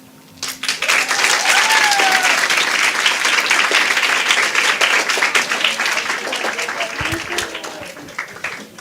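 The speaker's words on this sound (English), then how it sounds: "Can we get a round of applause again for her, please?" A festival audience bursts into loud applause for a speaker, sustained clapping for about eight seconds with a few faint voices and cheers woven through, tapering slightly at the end.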